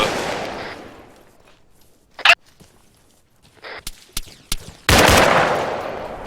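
Gunfire in a combat exchange rings out in sharp, loud bursts and single shots separated by quiet gaps, with a fading echo at the start and a dense, sustained crackle of shooting at the end.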